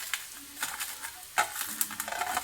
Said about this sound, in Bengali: আর এইদিকে আমি লঙ্কাটাকে নুন দিয়ে গুঁড়ো করে নিচ্ছি